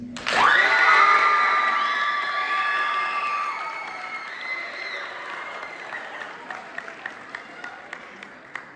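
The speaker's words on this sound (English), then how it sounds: "can we give a big round of applause for this next teacher" A school audience at a middle school awards ceremony bursts into loud applause with cheering and children's shouts, starting suddenly and holding strong, then thinning to scattered claps over several seconds.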